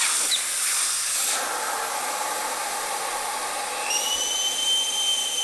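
Steady broadband hiss of air escaping a Suzuki SV650 motorcycle tire after its valve core is removed, continuous and fairly loud throughout, with no talking.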